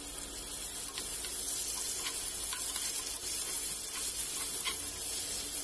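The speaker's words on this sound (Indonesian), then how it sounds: "lalu kita akan menggoreng bawang bombay" Steady, loud sizzling of onion frying in hot oil, a continuous crackling hiss with occasional sharper pops, close up and without speech.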